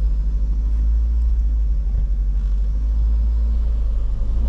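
The engine of a Parati car, just started and pulling away in first gear, gives a steady loud low rumble with a constant throbbing drone throughout.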